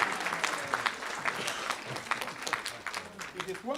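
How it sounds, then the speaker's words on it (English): A conference audience applauds, a continuous patter of many clapping hands in a hall. "I want us to clap for Wales."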